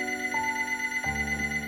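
A phone call placed to a person, with a ringing tone sounding in short electronic bursts over a steady tonal hum. No voices are heard.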